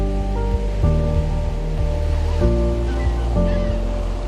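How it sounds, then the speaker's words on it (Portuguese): Ocean waves wash onto the beach at Praia da Joaquina by the dunes in Florianópolis, a loud continuous surf roar mixed with a steady low hum, with no talk. "O ritmo sonoro do mar limpa a mente."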